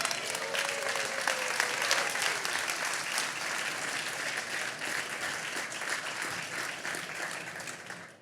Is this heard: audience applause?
yes